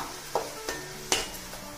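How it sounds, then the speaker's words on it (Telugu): Ginger garlic paste fries over a medium flame in a pan for fish curry, giving a quiet, steady sizzle broken by a few short scrapes of a spoon stirring. "మీడియం ఫ్లేమ్ పెట్టుకొని పచ్చివాసన పోయే వరకు వేయించుకుందాం"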